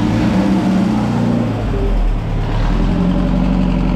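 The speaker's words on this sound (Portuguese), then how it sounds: "Eu nunca vi um motor tão silencioso que nem esse" A homemade engine built from a Volkswagen Gol CHT motor runs steadily with a short stub of exhaust pipe, a loud continuous low hum that dips briefly midway and then holds, with no talking over it.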